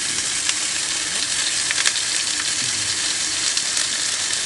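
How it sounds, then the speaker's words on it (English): A steak sears in hot oil in a pan on a stove inside a camping hot tent. The sizzle is loud, close and continuous, with crackling spatters and no talking. "We're gonna get her seared up."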